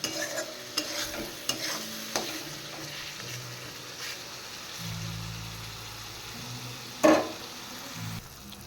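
Spice paste sautés in a pan before crab goes in, a soft steady sizzle with scattered light ticks and a few spatula scrapes, then one sharp clank of metal near the end.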